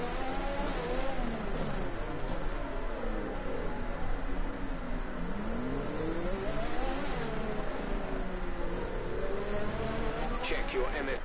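A Formula 1 car with a Honda engine screams through its gears at Monaco in the F1 2020 racing game, the engine pitch sweeping up and down repeatedly as it accelerates and brakes, loud and continuous throughout.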